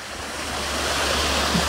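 A backyard pool waterfall feature at a Texas home spills water in a steady, rushing splash, a continuous wash of sound that swells slightly louder toward the end, with no voices.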